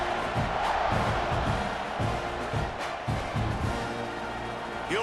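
A stadium crowd in a football video game, a steady roar of cheering and whooping with rhythmic pulsing surges, moderately loud and continuous, with faint voices mixed in.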